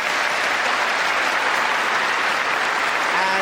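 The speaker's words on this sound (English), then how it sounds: "keep that applause going for the man who is at the heart of the most haunted live operation" A studio audience at a live paranormal television broadcast applauds in a dense, steady, loud wash of clapping that holds evenly throughout.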